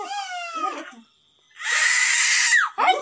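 A young girl screams in several sharp, high-pitched bursts close by. A long shrill scream is followed by a shorter cry, with a brief silence between them.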